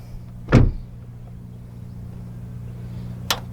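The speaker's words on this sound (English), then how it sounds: "they're all vacuum doors, so pretty nice" Vacuum-assisted doors of a Maserati Levante S pulling shut: one firm closing thud near the start and a fainter, short second closing later, over a steady idling engine hum.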